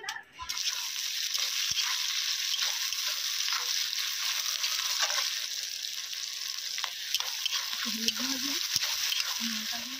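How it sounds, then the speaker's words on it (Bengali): Steady frying sizzle of onions in oil with bay leaves and five-spice tempering fills the whole stretch, a dense continuous crackle, with a few faint clinks toward the end. "পেঁয়াজগুলো ভাজা হয়ে এসেছে"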